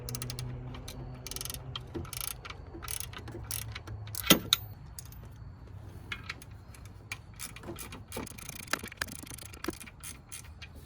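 A hand ratchet working the alternator bolts on a 2011 Dodge Durango R/T with the 5.7 Hemi: quick runs of close metallic clicking repeat in spurts, with one sharper clank midway and no voices.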